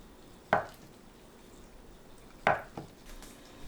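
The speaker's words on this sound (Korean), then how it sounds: "두부를 썰어주세요." Two sharp knife strikes cutting tofu against a cutting board, spaced about two seconds apart, close and clear over quiet kitchen background.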